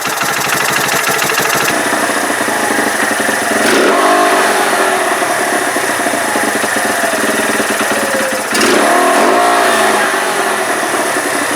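A Keeway RKV125 motorcycle engine runs loud and close, idling with a buzzy, harmonic tone, then revving up twice with rising pitch and settling back down, showing a slight lag as the throttle closes.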